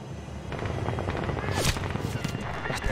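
Gunfire in Medal of Honor crackles in a burst of sharp shots amid a rumbling background, fairly distant and dense, with voices calling out under the noise.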